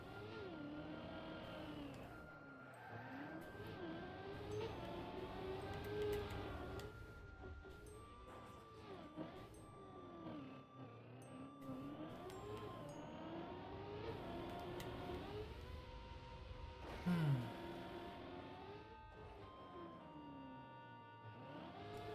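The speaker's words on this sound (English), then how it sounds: "Oh yeah, racing car." A racing car engine in a video game revving and shifting pitch repeatedly, with rising and falling tones over a steady hum, moderately faint with game music-like tones layered in.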